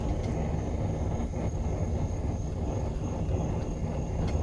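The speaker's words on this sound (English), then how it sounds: "I've got the forge turned down low" A blacksmith's gas forge running turned down low, a steady, even roar with a low rumbling body that holds constant throughout, with no talk over it.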